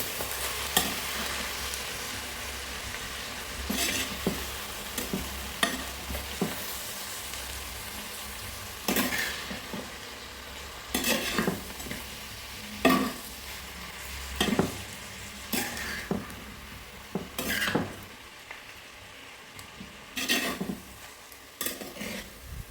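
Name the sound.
stirring greens thoran frying in a pan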